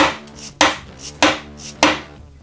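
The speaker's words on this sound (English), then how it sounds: "Can this knife cut through this bolt?" A Knafs Lander 1 knife designed by Ben Petersen strikes a metal bolt in three sharp, loud chops spaced about half a second apart, each impact ringing briefly before fading.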